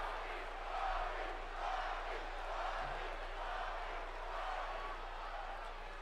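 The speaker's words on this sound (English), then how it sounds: "Looks like half the people are cheering for Bobby, the other half are cheering for Argus." A crowd cheers for wrestlers in the WWE 2K24 video game, a steady, moderately faint arena roar that swells and fades in gentle waves with no break.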